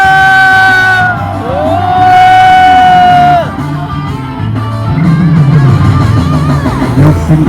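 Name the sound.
crowd shouting together at a rally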